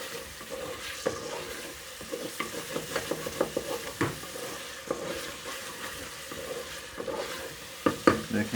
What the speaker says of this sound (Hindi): इसको उस वक्त तक भूनेंगे जब तक मसाला अच्छी तरह हो नहीं जाता और टमाटर